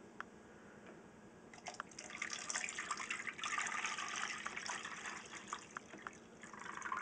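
Liquid is poured into a pot while brewing a pale ale by the extract method, a faint steady trickling and splashing that swells midway and continues without talk.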